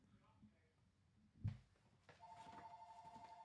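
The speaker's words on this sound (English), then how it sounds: "I'm going to turn that phone off." Telephone ringing in a busy retail store: a steady electronic ring starts partway through and keeps going under nearby talk, after a sharp thump.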